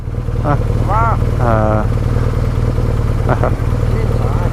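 A BMW motorcycle idles close by with a steady, loud low throb running throughout, while people exchange a few short spoken greetings over it.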